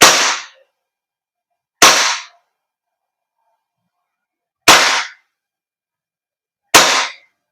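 A silver WE Beretta M92 airsoft gas blowback pistol fires four sharp, loud shots at a cardboard target about 2.5 meters away. The shots come at uneven intervals, with silence between them.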